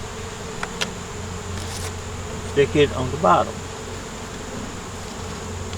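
Honey bees buzz around hive boxes as a faint continuous drone, while a person speaks briefly midway and scattered clicks of handling sound close by.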